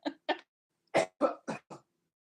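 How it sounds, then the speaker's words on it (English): A burst of harsh coughing: two quick coughs, a short pause, then four more in a row, close and fairly loud with nothing else around them. "Cough it out."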